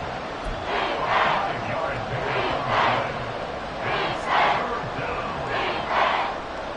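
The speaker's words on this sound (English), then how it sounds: "the crowd getting into it as we come up on a big 3rd down" A football stadium crowd roars and cheers after a big play ahead of a third down, a loud, dense wall of voices that swells in repeated waves.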